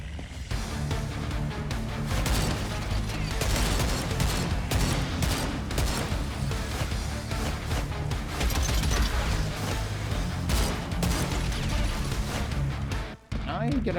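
Gatling gun fire in the game Gravelord, a dense and continuous rattling barrage that holds steady at high volume throughout and breaks off briefly near the end.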